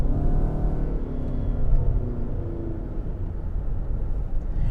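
Steady low rumble of road and tire noise heard from inside a moving 2020 Lexus NX 300h, constant and droning with no voices.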